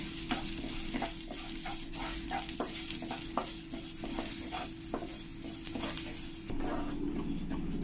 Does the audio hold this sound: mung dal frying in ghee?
yes